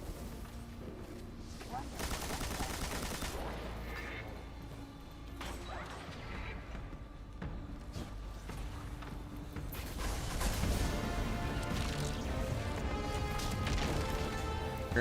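Grenade explosions and gunfire in the Destiny video game crash and rattle in dense, overlapping bursts, with a heavy blast swelling toward the end, under intermittent talk.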